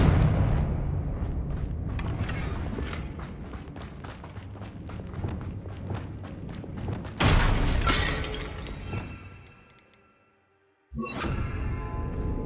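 Confringo blasting spell explosions in Hogwarts Legacy: loud, close crackling blasts ring out over a rattling, pulsing backdrop, then a sharp burst, a brief silence, and a second blast.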